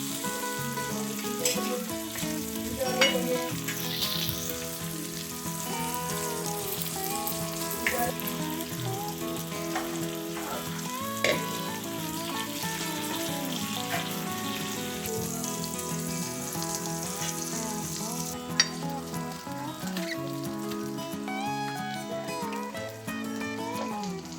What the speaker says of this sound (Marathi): आपल्याला दोन दोन मिनिटने दोन्ही साईडून चांगले फ्राय करून घ्यायचे आहेत